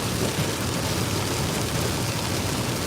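Heavy rain pours down on a car driving along I-895 North, a loud, steady wash of dense hiss and drumming with no break or change.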